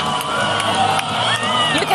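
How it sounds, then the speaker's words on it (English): Protesters cheering and yelling after President Yoon Suk-yeol's impeachment ruling, a dense loud crowd roar with whoops and shouts filling the whole moment. "They're cheering, they're yelling"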